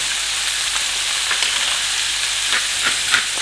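Onions and garlic sizzle hard in a hot pan, a loud steady frying hiss with occasional crackles and stirring, no voices.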